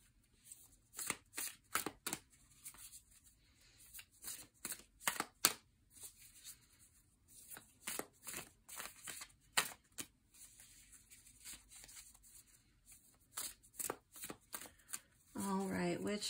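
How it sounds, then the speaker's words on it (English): Playing cards are handled and moved about in a tarot-style reading, giving soft, close flicks and slaps in irregular bursts while a person speaks quietly between them. "So we will just move this card off to the side."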